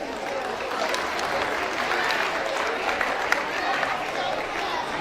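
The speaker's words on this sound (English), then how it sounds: "Let's give them a big round of applause" An audience applauds performers at a school hobby club showcase, a continuous even wash of clapping filling the whole stretch.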